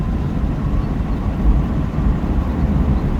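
Passing road traffic, a steady low rumble of engines and tires that swells slightly midway, heard continuously without voices.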